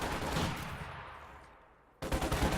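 Gunfire in a World War II strategy game, a dense burst of rapid shots that fades out, then a sharp new volley starts abruptly near the end, loud and close.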